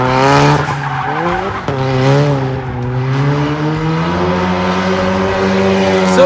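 An Ecoboost Mustang with a twin disc clutch driven hard, its engine revving loudly with a rising and falling tone and tire squeal, steady and close, with no speech.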